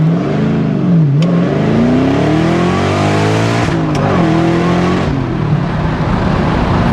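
Street car revved to about 3,000 rpm and launched off idle, its loud engine roaring continuously with rising and falling pitch sweeps, close and sustained throughout.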